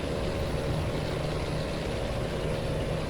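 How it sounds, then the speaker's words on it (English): A helicopter in the American Truck Simulator game drones steadily overhead, a continuous broadband rotor and engine rumble holding at an even level throughout, with no talk. "There's a helicopter again."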